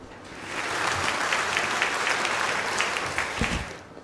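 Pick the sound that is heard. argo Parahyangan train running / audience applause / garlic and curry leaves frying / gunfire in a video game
audience applause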